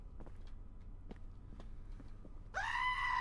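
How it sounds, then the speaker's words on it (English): A fish screams in the video game Don't Pee: a sudden loud, shrill, wavering cry cuts in near the end, over quieter ambient footsteps and background noise. "The fish just screamed at me!"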